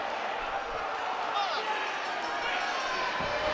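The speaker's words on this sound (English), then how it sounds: "Listen to this crowd." A wrestling arena crowd during a steel cage match, giving a steady, distant roar of voices and cheering with faint claps and thuds, low and continuous throughout.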